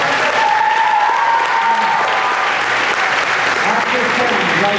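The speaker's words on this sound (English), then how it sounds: "give him one more round of applause" Loud, sustained audience applause in a school auditorium at a dairy festival pageant, dense clapping from a large crowd with scattered cheers and voices mixed in.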